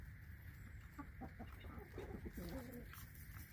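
Hens and a rooster cluck and call close by on a farm, their short broken calls rising over a steady outdoor background hum.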